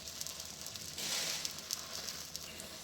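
Corn flatbread (makki ka paratha) laid onto a hot tawa griddle sizzles softly, a steady hiss that swells briefly early on with light crackles throughout, faint and close, with no talking.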